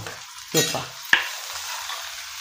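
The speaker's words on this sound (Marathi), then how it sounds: "आता कांदा चांगला परतून घेऊ." Chopped onion sautés in hot oil with mustard seeds and cumin, a soft steady sizzle broken by two sharp scrapes of a spoon stirring the pan, close and clear with no talking.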